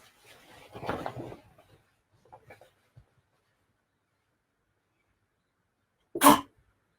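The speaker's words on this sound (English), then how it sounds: "Pardon my sneeze." A faint breathy build-up, a few small clicks, then one sharp, loud sneeze bursts out near the end, close by.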